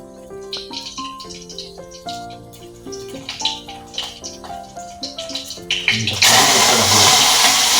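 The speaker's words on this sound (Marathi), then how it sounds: "कढीपत्ता धुवून घेतला आहे धुवून घ्यायचा कढीपत्ता" Curry leaves are rinsed under a running tap. After a stretch of melodic music, a loud, close rush of water starts suddenly and pours steadily to the end.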